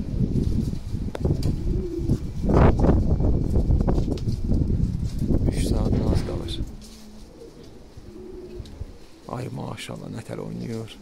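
Domestic flying pigeons coo outdoors on a windy day in Balakhani, low soft calls recurring close by while people talk over them and the wind rumbles.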